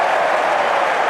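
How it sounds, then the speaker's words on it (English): Cricket crowd at Durham during an England versus Australia one-day match, cheering and applauding in a loud, dense burst that fills the short moment. "Crowd on their feet now."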